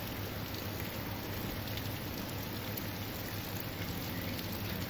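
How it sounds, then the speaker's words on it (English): Heavy rain from a thunderstorm falls steadily and loudly, an even, dense hiss that holds without pause and with no thunder or voices. "This rain though, I hope you can see it."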